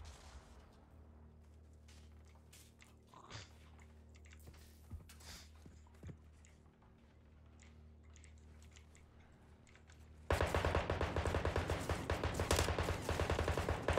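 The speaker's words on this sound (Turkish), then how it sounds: "Bak bak bak, nereden sıkıyor bak." Call of Duty Modern Warfare II gunfire: faint scattered distant shots over quiet ambience, then a sudden loud sustained burst of rapid automatic fire close by for the last few seconds.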